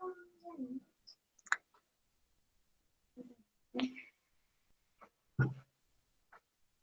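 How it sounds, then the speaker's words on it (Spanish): A computer mouse clicks several times in a quiet room, with sharp, isolated clicks spaced irregularly over a few seconds, some crisp and close, others faint. "Voy a darle clic ahí"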